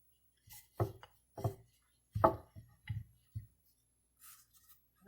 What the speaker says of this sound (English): we'll get our rolling pin, and we'll start rolling out